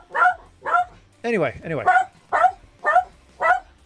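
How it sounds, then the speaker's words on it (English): A dog barks repeatedly nearby in a steady series of loud, evenly spaced barks, with someone speaking briefly in the middle of the run. "Quit barking."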